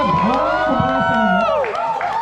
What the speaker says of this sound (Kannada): ಸೊ ಅಜ್ಜಿಗೋಸ್ಕರ ಒಂದ್ಸತಿ ಜೋರಾಗಿ ಚಪ್ಪಾಳೆ